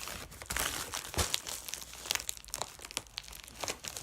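Continuous crinkling and crackling of plastic packaging, close and fairly quiet, with scattered sharper tearing rustles throughout.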